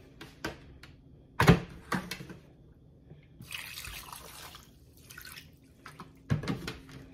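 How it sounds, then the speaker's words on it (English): White distilled vinegar poured over spare ribs, a short splashing trickle in the middle among scattered knocks and clatters from the kitchen, fairly faint overall. "Then we're going to add some white distilled vinegar."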